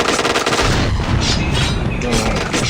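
Loud, dense gunfire fills a shooting video game match, a continuous rattle of rapid shots with no gaps.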